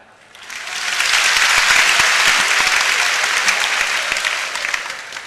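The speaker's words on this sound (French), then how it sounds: "le premier tour d'applaudissement doit être pour vous-même" Loud applause from an audience filling a hall at a youth event, building quickly to a dense, sustained wash of clapping that tapers slightly toward the end.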